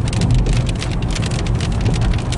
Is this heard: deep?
no